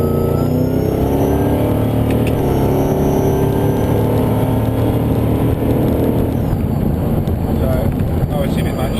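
A 650rwhp Holden VE SSV Ute with a T400 gearbox pulls away from a standstill under gentle throttle, its engine droning loudly and steadily inside the cabin with wind noise while someone talks over it.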